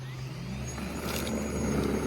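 An EGO 56V single stage battery snowblower running: a steady, fairly loud motor whir with a constant hum and a faint high whine, heard alone and close.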